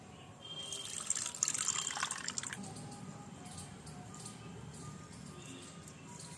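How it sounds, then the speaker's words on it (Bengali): Mustard seeds are rinsed in water in a home kitchen, with a burst of splashing and trickling early on, then softer dripping and light sloshing that carries on quietly to the end, with no talk. "সর্ষেটা প্রথমে আমি একটু ধুয়ে নিচ্ছি"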